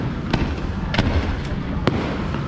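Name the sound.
fireworks exploding during a night coaster ride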